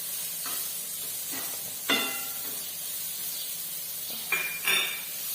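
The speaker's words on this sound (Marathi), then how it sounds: "टोमॅटो छान मऊ शिजून झाल्यानंतर" Tomatoes softening in a pan for a Maharashtrian brinjal dish, with a soft steady hiss of cooking broken by a few short metallic stirring clinks and scrapes.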